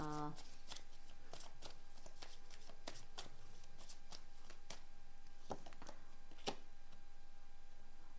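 Tarot cards being shuffled close by, a run of quick crisp riffling flicks and taps repeating through the whole stretch, quiet and without talk.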